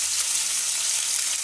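Fish frying in a pan in a home kitchen, a steady close hissing sizzle of hot oil with no voices.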